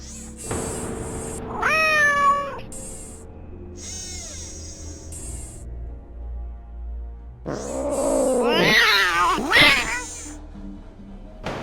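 A cat meows in the Nancy Drew: Water's Edge video game, a rising and falling call repeated a few times with brief gaps, followed by a louder, longer stretch of wavering cries near the end, with no talking.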